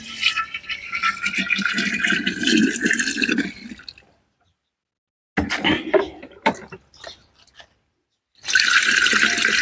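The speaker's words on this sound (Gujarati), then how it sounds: "આ ગૌમૂત્ર આપણે આમાં બે થી અઢી લીટર ઉમેરી દેવાનું છે" Cow urine poured into a pot for seed-treatment preparation: a close splashing stream that stops, resumes as uneven glugging splashes, goes quiet, then pours steadily again.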